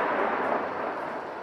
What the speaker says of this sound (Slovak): to bol výbuch z ostreľovania, z bombardovania, respektíve mína